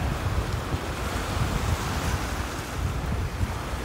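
Small waves wash and break steadily against the Taunton River shore on an unusually windy day, with gusty wind rumbling across the microphone throughout.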